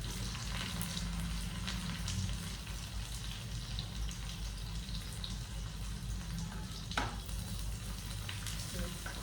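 Half an onion frying in a pan for a millet and spinach khichdi, a steady dense sizzle running unbroken throughout with occasional stirring scrapes, close and fairly loud with no talk.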